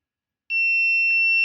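A buzzer on an IoT smart parking system with distance monitoring sounds a sudden, steady, high-pitched electronic tone that holds loud and unbroken after a moment of silence.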